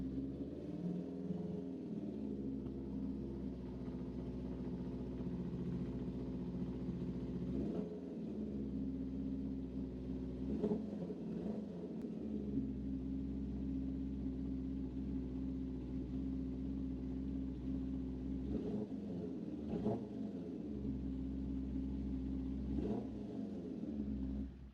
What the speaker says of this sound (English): here's a real example with the engine